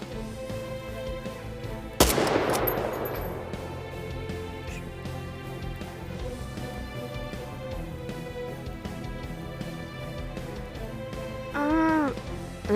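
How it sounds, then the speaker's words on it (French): A sniper rifle in a shooter game charges and fires, one sharp loud crack followed by a long echoing rumble over steady game music, with a brief rising electronic tone near the end. "le sniper, il a une deuxième variante, comme ça, où il charge et il tire"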